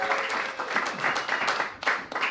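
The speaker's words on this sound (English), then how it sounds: "let's applaud Esme." A comedy show crowd applauds an audience member named Esme, a short burst of close, lively clapping with slight swells and a brief dip near the end.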